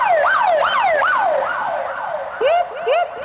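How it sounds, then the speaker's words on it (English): A wailing siren sweeps up and down in a fast repeating cycle, loud and close, with a brief sharper yelp pattern near the end over faint background noise. "That's the sound of the police."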